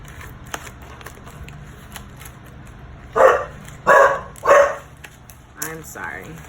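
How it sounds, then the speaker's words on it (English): A dog barks three times in quick succession, loud and close, followed by a softer fourth bark and a yip, over a quiet room hum. "my dog is barking clearly"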